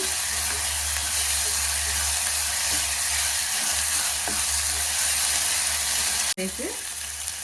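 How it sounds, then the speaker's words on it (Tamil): Ginger garlic paste frying in a pan with onions gives a loud, dense, continuous sizzle, close by, with occasional stirring scrapes and a brief drop near the end. "இஞ்சி பூண்டு வாசனை போகிற வரைக்கும் நல்லா வதங்கலாங்க."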